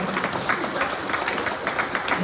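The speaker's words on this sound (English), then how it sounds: "Let's give Dr. Timothy Moore another round of applause." Audience at a health and healing conference giving a speaker a round of applause, a steady moderate clapping wash lasting throughout.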